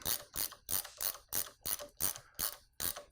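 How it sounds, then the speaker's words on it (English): A ratcheting wrench with a 32mm suspension socket tightens the top cap on a Rock Shox Pike fork, giving eight or nine evenly spaced, crisp clicking strokes close by with no voices. "Start the threads by hand, and then using my 32mm push suspension socket,"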